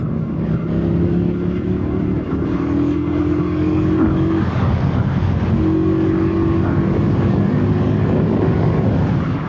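A CFMOTO 450 CL-C motorcycle with automatic transmission accelerates out of a corner, its engine note rising in pitch twice in steady pulls over constant road and wind roar, close and loud with no talk.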